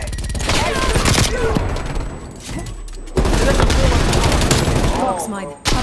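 Gunfire in the video game Call of Duty: Black Ops Cold War, loud dense rapid shooting and booming bursts nearly throughout, with someone talking over it.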